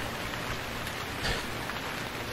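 Steady rain falls in the survival game Stranded Deep, a dense, even hiss of drops with no speech, continuous and fairly loud throughout.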